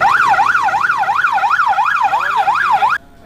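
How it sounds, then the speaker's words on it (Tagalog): A motorcycle siren wails in rapid, regular up-and-down sweeps, loud and close, cutting off abruptly near the end. "na ang isa'y nakablinker at sirena pa"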